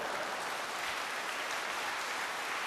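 An audience claps steadily at a motivational success-training talk, a dense, even wash of applause from a full room with no voices over it.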